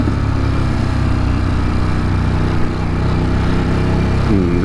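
Motorcycle engine running steadily at close range on a road ride in Quebec, a continuous low rumble with a slight pitch rise near the end.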